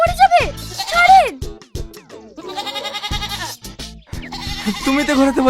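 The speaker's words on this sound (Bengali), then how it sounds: "এই, ছাগলটা ছেড়ে দেন, ছেড়ে দেন, মরে যাবে, ছাড়েন।" A goat bleats loudly several times while being led around on a farm, wavering cries mixed with people talking and shouting close by.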